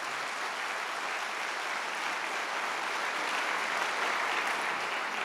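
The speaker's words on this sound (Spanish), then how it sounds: "Entonces denle un aplauso al Señor" A church congregation claps steadily and fairly loudly in a dense, sustained wash of applause with no pauses.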